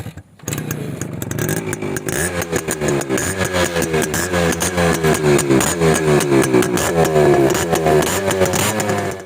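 A TVS Max 100 motorcycle with a modified, flute-cut exhaust runs nearby, its loud throbbing single-cylinder idle pulsing rapidly and rising slightly in revs, with no talk over it.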